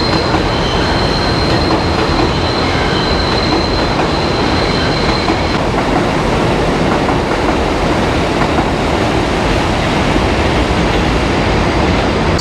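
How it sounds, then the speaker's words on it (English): Subway trains on elevated lines in Brooklyn pass by loudly and continuously, a dense roar of wheels and rails with a high squeal fading out midway. "I managed to capture the subway lines from both sides coming together and passing by."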